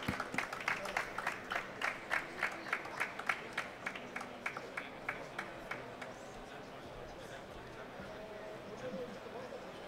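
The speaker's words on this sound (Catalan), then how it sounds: "un aplaudiment" An audience applauds at an Apps & IoT awards ceremony. Brisk, rhythmic claps come first and then thin into a softer, scattered patter that fades to room murmur, heard from a moderate distance.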